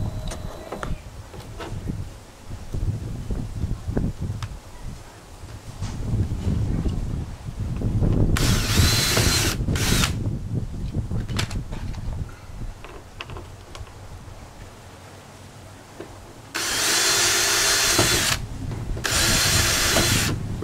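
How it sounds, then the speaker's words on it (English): A power drill bores into a gaming chair for a rivet, giving two loud, whining bursts that stop and start, amid handling clatter and a breezy background. "Drilling into the chair for the rivet."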